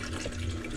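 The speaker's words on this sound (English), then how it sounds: "If I turn the fresh water on," Fresh water rushes steadily through a boat's watermaker plumbing aboard a Nordhavn 43, a brief, faint, continuous hiss and gurgle with no talk.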